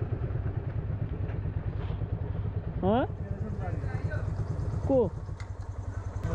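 A motorcycle engine idles steadily close by on a road in Nepal, a low rumbling drone running throughout, while people talk over it and two brief rising chirps cut through.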